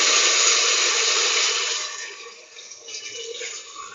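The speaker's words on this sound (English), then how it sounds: "Now pour in the beetroot mixture" Beetroot mixture poured into a hot pan holding popped cumin seeds and red chillies, giving a loud, steady wet pouring and sizzling rush that gradually eases and thins toward the end.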